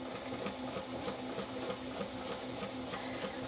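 A sewing machine running a steady straight stitch, its fast, even needle rhythm continuous and close, with no voices.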